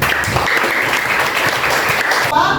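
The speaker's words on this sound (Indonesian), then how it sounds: "Kasih tepuk tangan dulu." A classroom audience applauds a student group after their presentation, a steady, full wash of clapping that holds evenly and then thins at the end.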